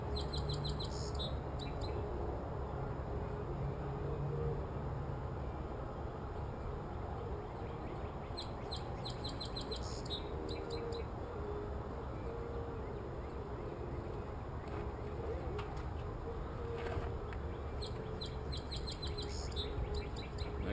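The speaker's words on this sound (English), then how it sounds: "I guess you can hear the birds on that." Birds chirping outdoors beside a road: bright, high repeated twittering phrases recur every few seconds, with several bursts in a row, above a steady broad rumble of background noise and no talking.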